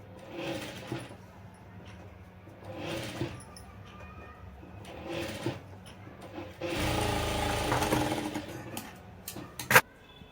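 Pleats are stitched into a skirt lining on a sewing machine in short bursts of whirring, with a longer, louder run near the end and soft fabric handling in the pauses between.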